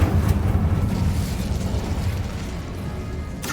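An Incendio fire spell cast in the video game Hogwarts Legacy gives a sustained, loud, rumbling whoosh of flame that fills the whole moment, steady and dense with no voices over it.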